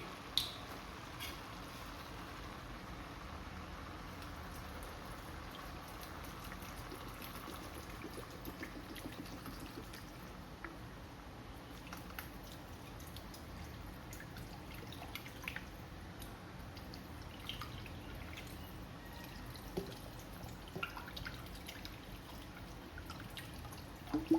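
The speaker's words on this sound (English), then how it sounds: "Now we add water." Steady watery splashing and trickling runs continuously as about 2 liters of water is poured into a soup pot, with faint drips and small knocks throughout and no voices.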